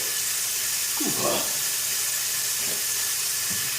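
A tap runs steadily while a U-part wig is washed with shampoo at a sink, giving a constant bright hiss of flowing water with a few splashy surges as hands move through the hair.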